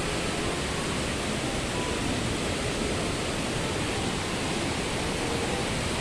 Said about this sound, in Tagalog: Yan po ang Estrella Falls. Dito po yan sa Nara, Palawan.